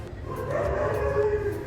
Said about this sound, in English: And you can hear the dogs barking,